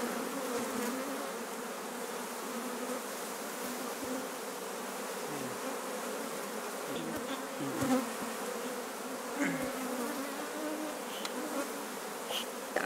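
Bees buzzing around a hive on a coffee farm in the highlands of Chiapas, a faint, steady drone with individual insects passing close now and then.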